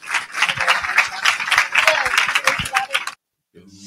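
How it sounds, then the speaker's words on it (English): A live-stream audience gives a loud round of applause for two people, with dense clapping that holds steady for about three seconds before cutting off abruptly, followed by a brief burst of music. "let's give Mark and Meredith one more round of applause"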